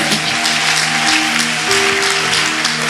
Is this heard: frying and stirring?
no